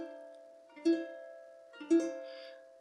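A plucked C dominant 9 chord rings out twice on a ukulele, each strum clear and close, sustaining softly before the next.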